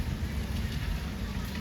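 Heavy monsoon rain pours down in Dharwad as a steady, close roar of dense falling water with a low rumble underneath.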